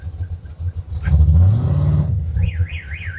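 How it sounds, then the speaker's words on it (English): Car alarm on a 1988 Oldsmobile Cutlass big block, a rising warbling siren wailing over a low rumbling engine idle and a brief rev, loud and close. "He's setting off alarms."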